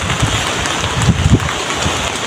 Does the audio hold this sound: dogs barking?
no